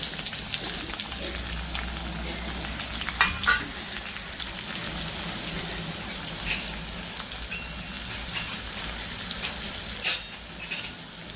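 Onion frying in hot oil with garlic for a dry prawn (sode) curry, giving a steady close-up sizzle and crackle with a few sharper pops and stirring scrapes, and no talking.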